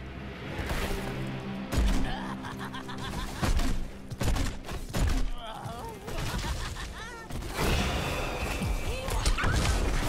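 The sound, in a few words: bomb explosions in the video game Heroes of the Storm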